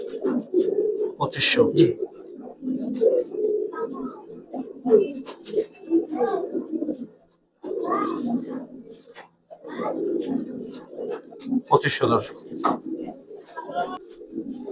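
Giribaz pigeons, an old breed, coo softly in low, repeated murmurs throughout, mixed with wing flutters and occasional sharp bird calls, while people talk nearby.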